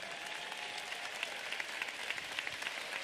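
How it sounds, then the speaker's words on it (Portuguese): A church congregation at a night vigil applauds hard in praise, a dense continuous wash of clapping with crowd noise. "aplauda Jesus bem forte."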